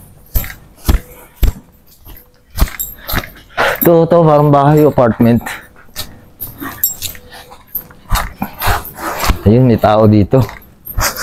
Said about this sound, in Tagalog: Yan, may aso.